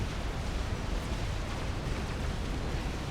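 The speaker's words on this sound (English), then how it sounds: "It is going to be a big explosion." A big bomb detonates in the real-time strategy game Supreme Commander, a dense, steady roar of rumbling blast noise filling the whole span without a break.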